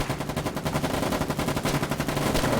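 Rapid automatic gunfire from the war game Foxhole, a dense, loud, steady stream of shots sounding close and continuous throughout with no talking.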